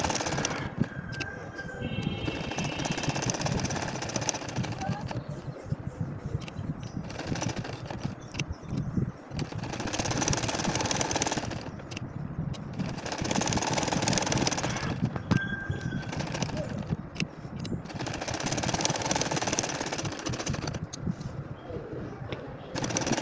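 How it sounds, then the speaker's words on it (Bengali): Ordinary domestic sewing machine stitching a nakshi kantha quilt, a rhythmic mechanical rattle in several long runs separated by short pauses. "এই যে দেখো আমি কিন্তু সেলাই করে যাচ্ছি"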